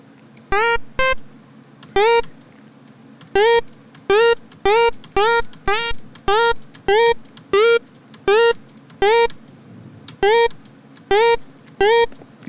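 Synth lead with pulse width modulation warping on oscillator 1, playing a rhythmic run of short, bright staccato notes over a soft sustained pad, loud and close, no voices.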